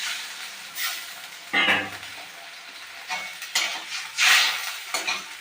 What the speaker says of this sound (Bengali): এবার অল্প পরিমাণ জল দিয়ে আমি কম ফ্লেমে ঢেকে দেব।